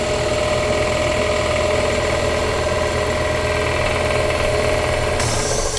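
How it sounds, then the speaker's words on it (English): An air compressor in a welding shop runs continuously, a steady rumbling engine-like drone with a low pulsing throb and a broad mechanical hum, loud and unbroken throughout. "That's a sound that air compressor hasn't heard since I moved up here by Winston"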